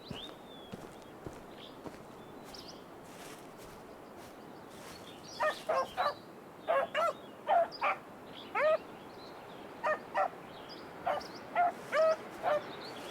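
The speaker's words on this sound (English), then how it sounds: "Alright, I hear you barking." Hunting dog in the Hunting Simulator 2 game, Roosevelt Forest in Colorado, barking repeatedly in short, sharp bursts from mid-distance after a quiet stretch, about a dozen barks in loose pairs over faint outdoor ambience.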